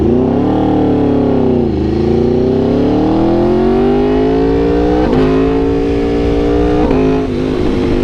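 A motorcycle with a quick shifter accelerates hard and loud, close by. The engine note climbs steadily, broken by a few brief dips as it shifts up through the gears.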